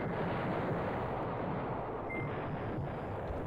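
Artillery bombardment in the war game Command Ops 2 rumbles as a dense, continuous low roar, steady and moderately loud, with a brief thin beep partway through.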